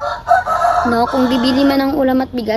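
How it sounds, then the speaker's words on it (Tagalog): A rooster crows loudly and close by at a house, its long drawn-out call running under a person's speech. "Pasensya na sa manok."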